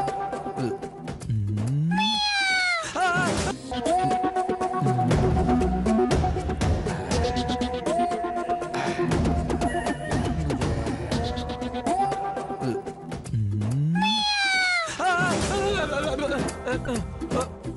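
A cat meows in a few rising, drawn-out cries near the start and again near the end, set against loud, busy background music throughout.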